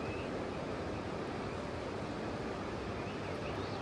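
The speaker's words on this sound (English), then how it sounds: "I'm going to fall asleep to the sound of the ocean." Ocean waves heard at night through a bus window, a faint, steady, even wash of surf with no distinct breaks and no talking.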